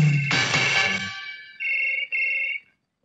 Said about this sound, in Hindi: हाय ऋतु, तुम्हारी दीदी का फोन है।